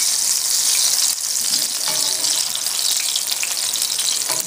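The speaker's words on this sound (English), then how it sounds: "Now we're frying them to cook them." Steady, dense sizzling of crawfish fritters frying in hot oil, close and continuous with a soft crackle throughout.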